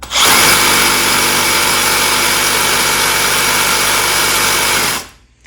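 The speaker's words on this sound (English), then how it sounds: "Let's check out how much vibration the Makita brushless 18 volt reciprocating saw puts out compared to the other" A Makita brushless 18 volt reciprocating saw runs loud and steady for about five seconds with a constant buzzing drone, then cuts off abruptly, leaving a moment of quiet.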